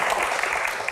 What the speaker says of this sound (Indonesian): Tepuk tangan Pak Supratman.